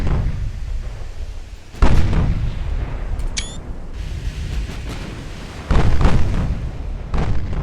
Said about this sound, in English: We appear to be shooting high explosive rounds at her.